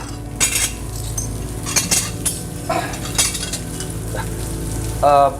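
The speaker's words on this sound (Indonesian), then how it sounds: "aku beres-beres piring dulu." Dishes and plates are cleared away, giving scattered close clinks and clatters of crockery and cutlery in irregular bursts, with a louder rattle near the end.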